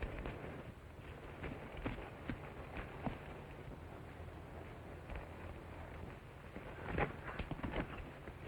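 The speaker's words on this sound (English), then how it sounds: "I'm sorry, Miss Owens, but that horse is too lame for you to ride any further." Horse hooves clip-clop at a slow, uneven pace on a trail in a 1945 western film, faint and irregular over a low background hiss.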